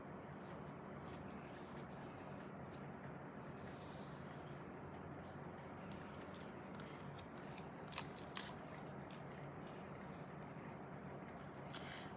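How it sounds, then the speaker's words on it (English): Quiet snipping of scissors cutting material, small clicks over a low steady background rumble, with a couple of sharper snaps. "I think I'll get scissors and cut that"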